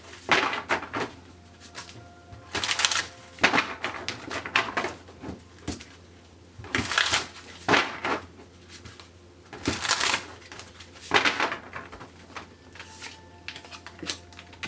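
Tarot cards being shuffled and pulled, bursts of riffling and papery flicks separated by quieter gaps, close and fairly loud, with irregular rhythm.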